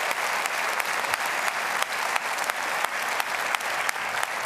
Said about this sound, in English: as you can hear here in the auditorium in Stockholm, and if we could hear that applause around the world, it would be thunderous.